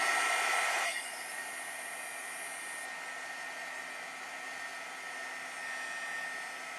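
A hair dryer blows steadily on a watercolor painting, a loud continuous whooshing whine that drops slightly in pitch and strength after the first second, then holds even to the end with no talking.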